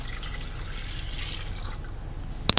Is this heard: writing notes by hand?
no